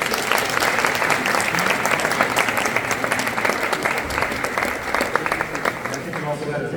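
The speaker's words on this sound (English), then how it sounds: "About a round of applause." An audience applauds steadily at a welcome event for a new women's basketball coach, a full and even round of clapping that holds for several seconds and then begins to thin out.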